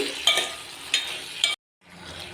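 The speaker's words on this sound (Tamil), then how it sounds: "நல்லா வதங்கிட்டு இருக்குது" Masala frying in oil in a pan for brinjal gravy, a soft steady sizzle with three sharp clinks of a spoon stirring, then a brief cut to silence before the sizzle resumes.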